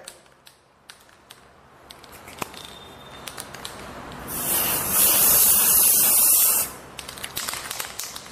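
A single long hiss from an aerosol adhesive spray can, about two seconds of steady spraying, loud and close, with faint handling clicks before and after.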